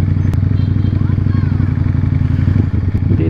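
A Ducati Panigale V4S's 1,103cc engine cruising at low speed, a loud, constant deep rumble close up with a brief dip near the end and no break in the drone.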